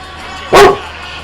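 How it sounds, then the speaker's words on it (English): A single sharp, loud bark from a dog named Zero rings out close by against quiet room tone. "What are you barking at, Zero?"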